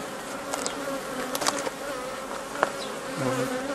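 Honeybees buzz in an open hive during an inspection, a steady close hum with brief louder passes as single bees fly near.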